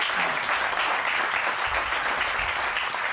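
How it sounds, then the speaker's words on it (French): Studio audience on a French talk show about an assault on an 89-year-old woman applauds in a sustained, dense wash of clapping that fills the whole stretch at a steady level. "on peut l'applaudir"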